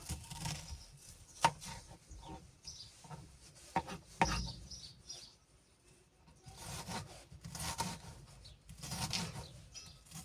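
A knife finely chopping red onion for a herring appetizer: bursts of rapid, rubbing cuts on a board with pauses between them, close but fairly quiet, no talking.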